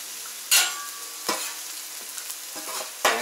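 Bacon and potatoes sizzle on a Camp Chef FTG600 flat top griddle in a steady hiss, broken by several scraping spatula strokes, with no one talking.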